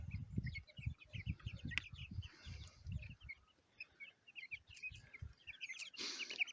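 Young chicks moved outdoors into a cage chirp in quick, high, scattered peeps over low rustling and thumps, with a sharp burst of noise near the end.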